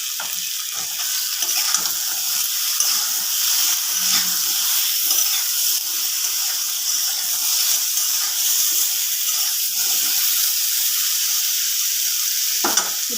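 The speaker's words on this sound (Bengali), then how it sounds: "এবার আমি এর মধ্যে ঝিঙেগুলো দিয়ে দেবো।" Ridge gourd pieces hit a hot pan and set off a loud, steady sizzle that holds for the whole stretch, broad hissing frying noise with a few faint clicks along the way.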